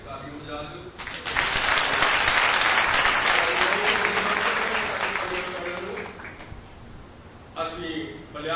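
A church congregation at a Sunday meeting bursts into loud clapping with hands raised, a sustained burst that gradually thins, followed by a short fresh surge of clapping at the end.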